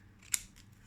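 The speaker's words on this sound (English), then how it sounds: "I like to keep the card on my left and use the scissors like this" Scissors snip once along the border of a playing card while trimming a deck's edges, a single sharp, close cut amid quiet room tone.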